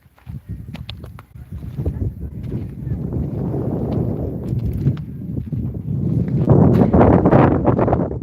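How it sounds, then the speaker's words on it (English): Strong wind blows across a bedroom balcony of a house in Jamaica, producing loud, gusty rumbling buffeting and roaring. It surges and eases continuously with no voices, building toward the end. "It's really windy."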